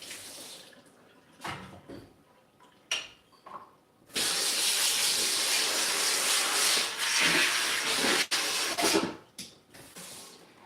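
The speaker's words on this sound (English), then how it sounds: "Just spraying with a little bit of soapy water," Soapy water is sprayed from a spray bottle onto a meat cutting board in a home kitchen: a few short hissing spritzes, then a long, loud continuous spray lasting about four seconds, followed by several more brief bursts, close up.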